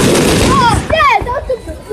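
Local fireworks bang on bonfire night, echoing around an outdoor spot as a few sharp cracks and booms ring out close by, with people talking over them.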